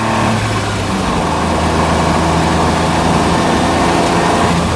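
A Smart ForTwo pushes under hard acceleration on a test drive, its engine note a loud, steady drone with a rising hum heard from inside the car.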